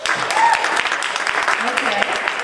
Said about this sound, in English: The same table that just clapped for being single over here just clapped for being married.